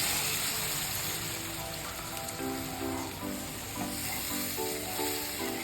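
Steady sizzling and bubbling as water hits hot spice paste frying in oil for a Bengali pabda fish curry, close and continuous with faint stirring, no talk.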